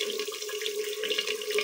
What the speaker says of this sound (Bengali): দেখুন চাল ধুয়ে নিয়েছি, এবার আমি জল দিয়ে দেব।